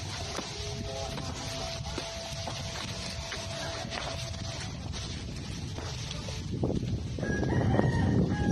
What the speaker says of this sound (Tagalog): May manok pa oh.